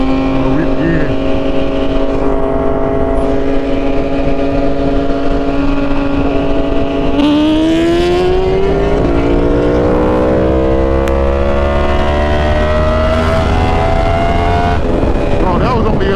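A Yamaha R1 sport bike on a night ride in Miami accelerates hard, its engine note climbing steadily in pitch as it pulls through the revs, loud and close with road and wind noise.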